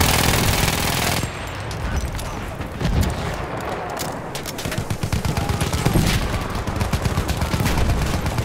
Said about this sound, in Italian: Mitragliatrice nemica localizzata!